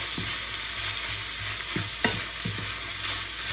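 Minced pork stir-frying in a pan for a northern Thai larb stir-fry: a steady close sizzle with repeated spatula scrapes and clinks against the pan at an uneven rhythm, with no talking.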